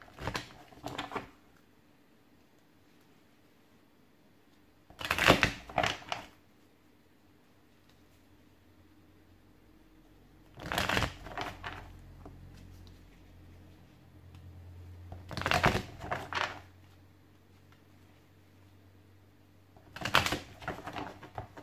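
A tarot deck being shuffled by hand, five separate bursts of crisp card riffling and flicking, each lasting about a second, separated by long quiet gaps.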